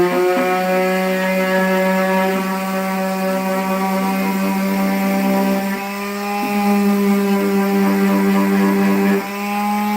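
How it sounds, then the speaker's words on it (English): A power sander works over a smooth wooden tabletop, giving a steady, loud droning hum with a strong low fundamental and stacked harmonics, dipping briefly in pitch around the middle and near the end as pressure shifts. "I just need to sand this one down."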